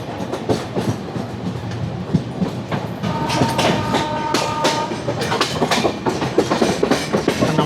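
Passenger train running on rails near Thane, heard from onboard the Netravati Express: loud continuous rumble with rhythmic clickety-clack of wheels over rail joints and brief metallic squeals, no talk.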